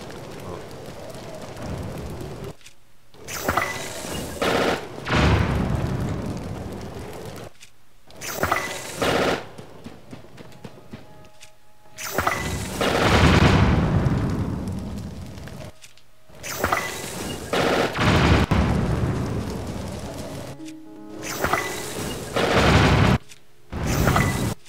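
Bombs and machine-gun fire from a Nintendo Switch video game crackle in loud repeated bursts and booms, broken by short silent gaps, with no talking.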